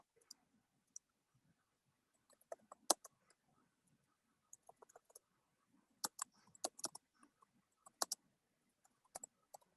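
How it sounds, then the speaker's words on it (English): Computer keyboard typing, quiet close clicks coming in irregular bursts of keystrokes with short pauses, no voices. "you would type your book review"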